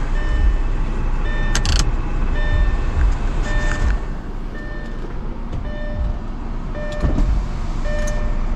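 An electric sunroof motor whirs steadily as the roof panel moves on a Camaro, heard from inside the car, with faint clicks and a constant hum throughout.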